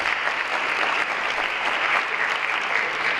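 An audience at the 2015 South and West Washtenaw Consortium awards ceremony claps for student competition winners, a dense, even roar of many hands, steady and sustained for several seconds.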